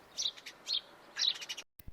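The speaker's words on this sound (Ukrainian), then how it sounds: "А це хто цвірінчить?" House sparrow chirping in short bursts of bright tweets, fairly faint, with a few pauses and no talking.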